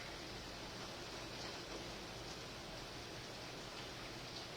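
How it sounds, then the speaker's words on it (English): Heavy rain pouring steadily outside, a dense, continuous hiss with no breaks, heard from indoors at a moderate level. "Yeah, it's pouring."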